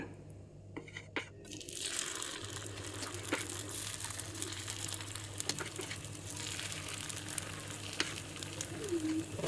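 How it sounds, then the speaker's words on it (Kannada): Masala paddu batter poured slowly into a paddu pan with hot oil, sizzling and crackling steadily near the mic, with faint clinks; no talk. "ಈಗ ಮಾಡಿಟ್ಕೊಂಡಿರ್ತಕ್ಕಂಥದ್ದನ್ನು ಹಿಟ್ಟು ನಿಧಾನವಾಗಿ ಹಾಕ್ತಾ ಹೋಗೋಣ"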